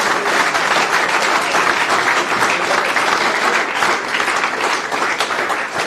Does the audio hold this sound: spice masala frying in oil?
no